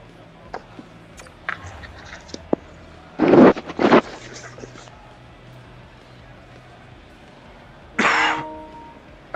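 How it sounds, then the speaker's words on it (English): A few short, sharp coughs from a hockey game commentator, two close together near the middle and one more later, each a brief noisy burst standing out over a quiet background. "I just unmuted the cough."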